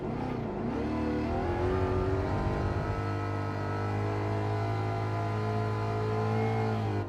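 A race car engine in the Lago Maggiore circuit of a racing video game, revving high and steady as the car accelerates, a constant loud harmonic drone with a pitch shift early on and no talk.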